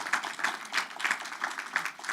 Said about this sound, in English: that's worthy of a little bit of applause